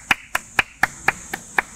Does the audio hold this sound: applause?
yes